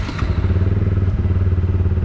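A Taro GP 1 250 motorcycle engine thumps, then settles into a loud, close, steady idle with a rhythmic low pulse and a little mechanical clatter.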